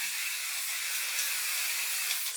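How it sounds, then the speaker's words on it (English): Hairspray from an aerosol can mists onto styled hair during flat-iron curling, a steady close hiss lasting the full couple of seconds with no voices. "Spraying it again with hairspray."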